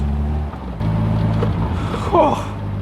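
Caterham Seven 420R sports car engine running steadily and close, with a low rumbling drone that shifts in pitch partway through, ending with a brief rising rev.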